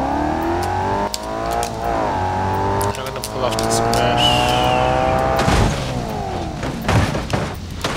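A Ford 390 GT in BeamNG.drive revs and shifts with rising and falling engine tones, then skids with tire squeal near the middle, a loud continuous drive with game sound effects and no talk.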